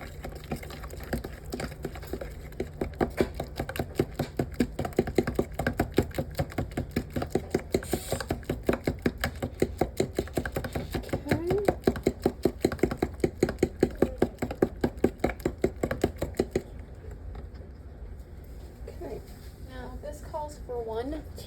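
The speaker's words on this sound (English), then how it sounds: "we'll mix the egg in there real good" Egg being mixed into banana bread batter in a bowl, a steady run of quick scraping, clicking utensil strokes against the bowl that stops near the end, with faint background sound throughout.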